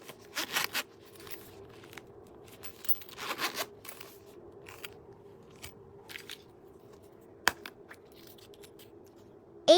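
A zipper pouch from a black bag set is handled close by, with soft rustles and brief crisp scrapes and clicks at irregular intervals, faint and without any talking.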